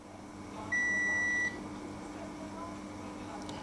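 A digital Bluetooth multimeter gives one sharp, high continuity-test beep lasting under a second, loud against a low background hum.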